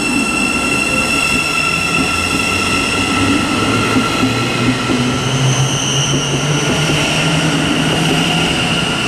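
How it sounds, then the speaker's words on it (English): A Thameslink electric passenger train runs past on the East Coast Main Line at Stevenage, a loud, steady rumble of wheels and traction whine filling the whole stretch, with faint wheel squeal overhead. "the final now is the 11:44 Thameslink service to Peterborough"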